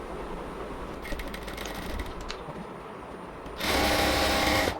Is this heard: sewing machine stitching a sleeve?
yes